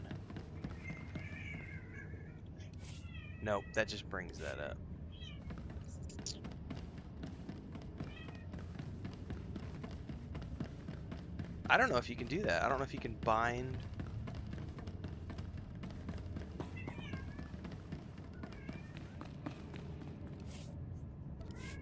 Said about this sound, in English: You guys can probably hear cats screaming in the background